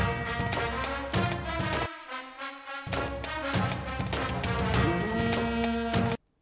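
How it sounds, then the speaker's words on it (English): A trumpet doubles the brass melody in epic orchestral fantasy battle music, playing loud sustained notes over full ensemble chords with a brief drop around the second mark before ending abruptly. "So I add a trumpet here to double the trump stack."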